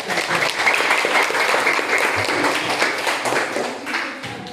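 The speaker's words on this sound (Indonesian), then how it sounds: "Berikan tepuk tangan kepada kelompok." A classroom full of students applauds a student group, dense clapping that swells quickly, stays loud and sustained, then tapers slightly toward the end.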